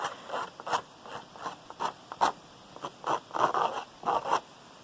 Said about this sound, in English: with the sides of my scissors, dragging it along, kind of at an inside angle